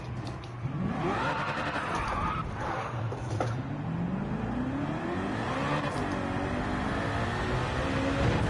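A BMW M3 GTR race car carrying a V8 swapped in from a Z4 revs and accelerates in Gran Turismo 7, its engine note climbing and falling through gear changes, loud and continuous throughout.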